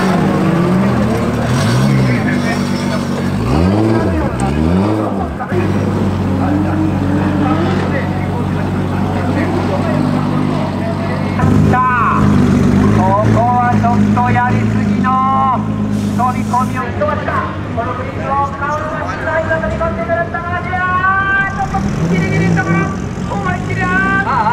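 Drift cars revving their engines in a Tokyo drift event pit area, with repeated rising and falling throttle blips and a steady loud engine drone running throughout under nearby talk.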